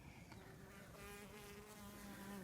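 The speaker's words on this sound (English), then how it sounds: "Distinctive buzzing sound, different from the female worker bee." Steady close buzzing of a drone honeybee drawn to queen pheromone swarm bait, with a sustained droning hum that wavers slightly in pitch throughout.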